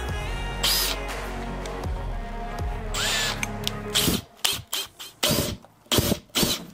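A power drill bores a hole in a laser cutter enclosure for a light cable, whirring for about four seconds, then giving several short bursts of drilling.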